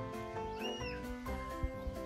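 A cat hiding inside a car parked near Tso Moriri Lake in Ladakh lets out a drawn-out meow, close by but soft, over a steady droning background hum.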